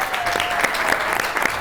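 Audience applause for a singer, a dense steady patter of many hands clapping that fills the whole short stretch at even loudness, with no talk over it.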